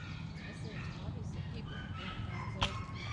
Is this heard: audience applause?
no